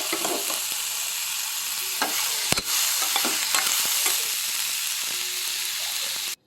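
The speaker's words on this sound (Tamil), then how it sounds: "வெங்காயம் வதங்கும் போது ரெண்டு பச்சை மிளகாய் போட்டு வதக்கிட்டு அப்படியே ரெண்டு தக்காளியை போட்டு அதிலே வதக்கி எடுத்துக்கலாம்" Onions, green chillies and tomatoes sauté in a pan for a hotel-style chana masala, giving a loud, steady sizzle broken by scraping stirs and one sharp clatter midway, with no talking.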